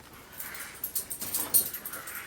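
A dog whimpers and whines softly indoors in a series of short, rising, high-pitched cries, fairly close and mid-level in loudness.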